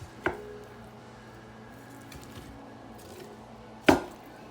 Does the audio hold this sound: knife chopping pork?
yes